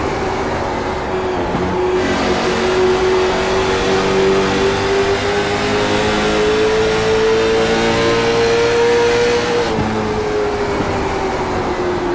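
Race car engine heard from inside the number 88 car during a short track race at Lakeland, droning loud and steady throughout with a slowly rising pitch that drops back near the end.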